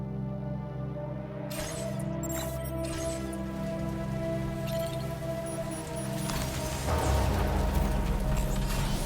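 Rain falling steadily in the Death Stranding 2: On the Beach video game, a constant soft patter under a sustained drone and music, with a few clicks and a brief swell near the end.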